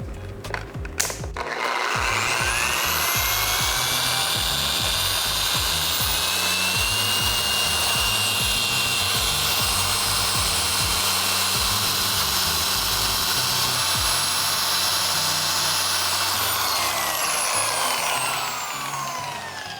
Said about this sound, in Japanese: ポリッシャーのバフにつけているっていう感じになります。